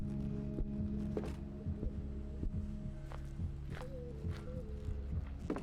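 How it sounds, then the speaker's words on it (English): Steady rhythmic heartbeat thumps from the Song of Horror video game pulse low and regular beneath a soft hum, repeating evenly through the whole stretch with no talking. "I don't know if you guys can hear the heartbeats,"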